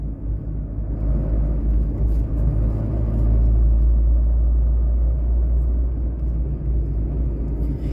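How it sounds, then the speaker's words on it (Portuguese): A camouflaged test car drives past on a city avenue, a steady loud road rumble and engine drone holding throughout with no talk. "Esses carros, pessoal, quando tá assim, tá fazendo teste, né?"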